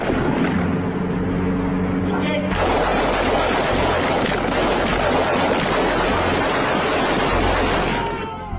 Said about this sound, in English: the time between the warning shot and the actual shooting is no more than 3 seconds